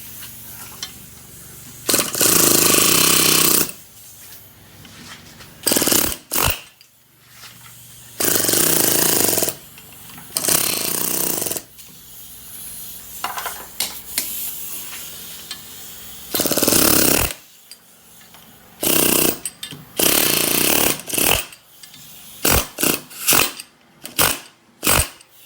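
An air chisel hammers in loud, close bursts of several seconds each against a rust-seized rear brake rotor on a Buick Enclave, separated by short pauses and ending in rapid choppy blasts.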